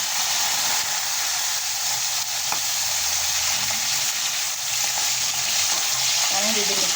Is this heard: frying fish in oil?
yes